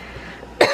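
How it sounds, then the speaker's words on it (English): A single short, sharp human cough bursts out near the end after quiet room tone, close and loud, during a cross-stitching session. "kind of make me feel like I wanna cough"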